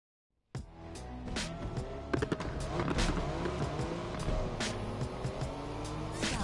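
Car driving hard in a video game: a loud, sustained engine drone with repeated tire squeals and skids starting abruptly and continuing throughout, no talk.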